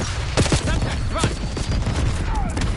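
Gunfire in Call of Duty Black Ops 6 rattles through a dense, loud battle mix, with sharp shots and rumbling booms layered over continuous game noise.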